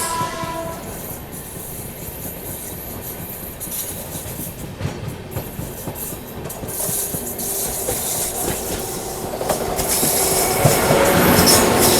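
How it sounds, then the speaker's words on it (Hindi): The Ujjaini Express passenger train rolls into an Indian station with a steady rumble, clacking wheels and a brief squeal that grow louder toward the end, heard from nearby on the platform or an adjacent train. "भैया आ गई उज्जैनी एक्सप्रेस"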